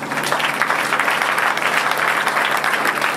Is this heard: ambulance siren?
no